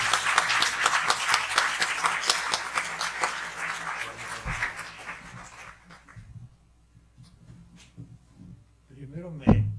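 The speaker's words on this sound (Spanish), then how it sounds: "recibamos a don Arturo con un muy fuerte aplauso" An audience applauds at a conference lecture on fighting corruption, dense clapping for several seconds that thins and fades out, followed by quieter room sounds and a brief voice near the end.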